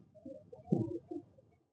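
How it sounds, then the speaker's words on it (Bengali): Two domestic flying pigeons, one black-eyed and one white-headed, give a few soft, low coos, faint and close by, with no voices. "এবার আপনাদের এই পায়রা দুটো দেখানো হবে"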